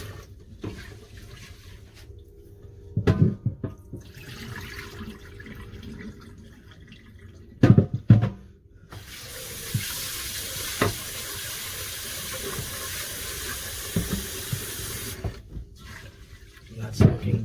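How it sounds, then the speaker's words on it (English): Rice being washed in a sink under running tap water, with intermittent clanks and splashes, then a steady hiss of flowing water for several seconds before it stops. "you want to wash this until the water runs clear"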